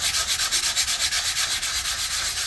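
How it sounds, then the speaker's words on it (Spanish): Burnt wood being sanded by hand in steady, rhythmic back-and-forth strokes, a close, continuous abrasive rasp with no talking. "Estoy lijando la otra parte."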